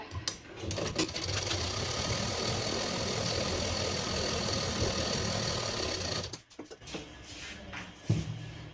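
A sewing machine stitches a Bombay cut blouse in one long steady run, close and continuous, then stops with a few scattered clicks and fabric handling sounds afterward.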